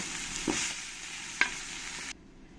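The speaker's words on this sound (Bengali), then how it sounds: "পরের মাছগুলো আমি একই রকম করে ভেজে নেব" Steady, fairly loud sizzling of small puti fish (pool barb) frying in a pan, with a couple of light clinks, before the sizzle drops away near the end.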